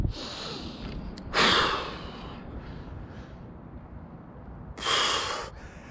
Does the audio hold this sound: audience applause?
no